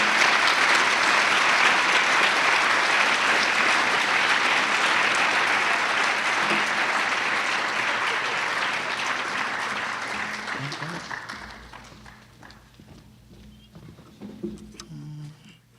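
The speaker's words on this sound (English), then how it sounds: "Please give another round of applause for the 2019 MLK Junior Peace and Justice Award recipients." A crowd at a 2019 Martin Luther King convocation claps loudly for award recipients, dense sustained applause that gradually thins and fades over about twelve seconds, ending in scattered claps and room noise.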